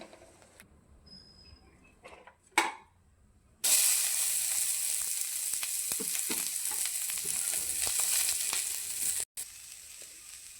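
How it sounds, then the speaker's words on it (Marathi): Onion hits hot oil in a pan for a home-style spicy chicken curry, a bright loud sizzle that starts suddenly after a quieter moment and stays steady, with faint stirring clicks and a brief dropout near the end. "तर आता आपण काढून घेऊया आणि कांदा परतण्यासाठी टाकून घेऊया."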